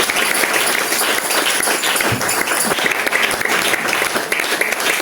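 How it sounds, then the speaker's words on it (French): A church congregation at a Sunday thanksgiving service applauds continuously, a dense, loud wash of clapping that holds steady throughout. "Est-ce que tu peux acclamer Jésus?"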